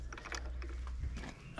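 Spark plug turned by hand into the cylinder head of a Yamaha Malta 3hp outboard motor, giving a few quiet close-up ratcheting clicks and small metallic scrapes, ending in a brief thump.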